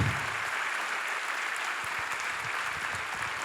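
Steady applause fills a hall at the opening ceremony of the 41st Istanbul Film Festival, an even, continuous roar of many hands clapping with no voices over it.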